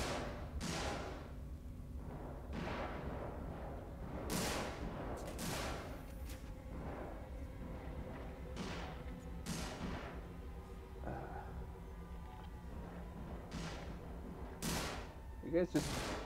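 Repeated gunfire in the sci-fi horror game Alien: Isolation, a burst of sharp, loud shots spaced irregularly over a steady low rumble, with a cluster near the start and more scattered cracks later.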